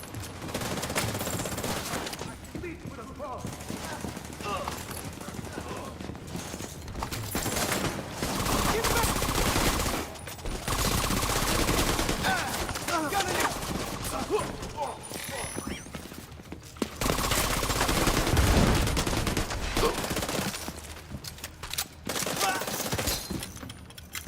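Rapid gunfire from The Division 2 video game, loud bursts of automatic and scattered shots in several long stretches, with brief quieter gaps between volleys.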